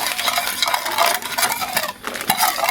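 A spoon stirring a seasoned mixture for baked shrimp with glass noodles in a bowl, close scraping and clinking in quick uneven strokes.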